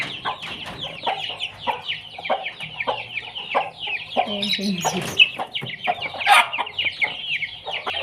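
Country hens cluck steadily near chicks on a village poultry farm, a busy mix of short repeated clucks and peeps close by, with a few louder squawks toward the end.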